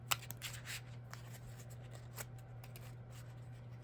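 A deck of Yu-Gi-Oh trading cards is shuffled by hand, faint soft riffling and flicking at close range over a steady low electrical hum, with no talk.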